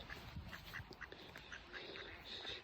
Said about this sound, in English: We're kind of scaring the ducks.